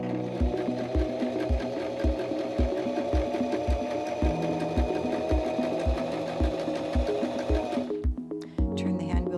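A SINGER M3500 sewing machine runs a long zigzag stitch, its needle thumping in a steady rapid rhythm under a continuous motor hum, close and loud, before stopping abruptly near the end.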